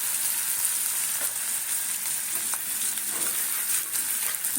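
Poppy seeds crackle and sizzle steadily in a hot pan, a dense, even frying hiss with tiny pops and no voices.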